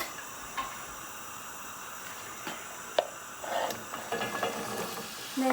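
Ingredients added to a pan of melted butter with cumin seeds, a soft sizzle and frying hiss with occasional light clinks and stirring sounds.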